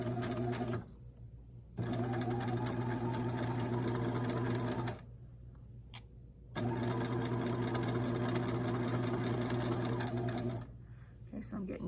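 Sewing machine stitching a dart in fabric, running in two long steady bursts of rapid mechanical whirring separated by a short pause, heard close and loud.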